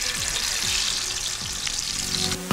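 Eggplant frying for badımcan ləvəngi over a wood-fired stove outdoors in Lənkəran, a steady close hiss of sizzling oil with faint stirring scrapes throughout.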